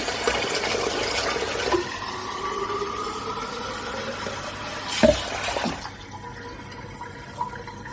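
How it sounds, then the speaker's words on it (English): Fresh water pours into a flower vase indoors, a steady trickling fill with rising tone, a sudden splashy gush near the end, then quieter dripping. "Let's put some fresh water in here,"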